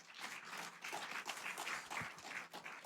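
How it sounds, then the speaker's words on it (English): An audience applauds at the close of a conference, a steady patter of clapping from many hands, fairly distant and soft, continuing without a break. "So I'd like to give them all a big round of applause."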